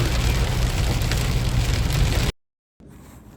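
Dense, heavy rain drumming steadily on a surface for a couple of seconds, then an abrupt cut to silence before faint noise returns.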